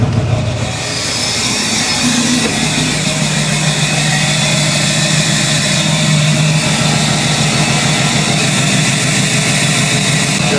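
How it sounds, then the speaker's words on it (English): Isuzu D-Max diesel truck engine idling after a cold start, a loud, steady, close clattering rumble that holds constant throughout with no talk. "if you don't start every one of your days with the good old cold start for the boys, you're doing something wrong"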